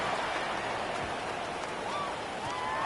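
Heavy rain pours steadily during an outdoor football game against the Jaguars, a dense broadband hiss with no break from start to finish.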